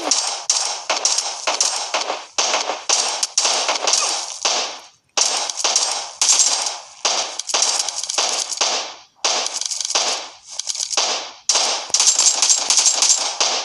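Rapid bursts of gunfire from a video game, loud and close, coming in repeated clusters of shots separated by short gaps, with no talking over it.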